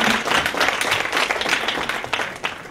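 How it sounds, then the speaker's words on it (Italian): Audience applause, close, lively clapping from a crowd in short bursts, rising and falling briefly, with no voices over it. "Un applauso, grazie."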